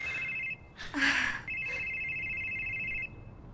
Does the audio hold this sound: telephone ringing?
yes